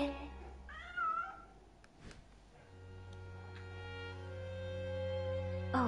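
A cat in the video game Déraciné meows a couple of times, short and mid-loud, followed by a sustained low musical drone from the game's soundtrack.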